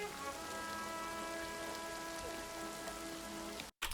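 Steady, soft rain falls in the trench-warfare video game All Quiet in the Trenches, an even hiss of drops throughout that cuts out abruptly near the end.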